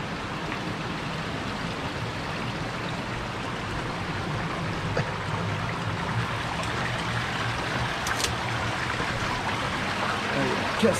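Steady rushing water from a small waterfall in the Var, France, flows continuously at moderate distance, a soft broadband wash with occasional faint splashes.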